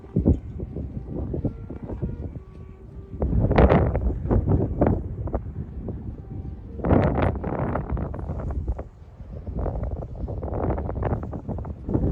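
Strong wind buffeting the microphone while a 2.1-metre kite is flown outdoors, loud rushing gusts that surge and fade in waves, close and rough, with no talk.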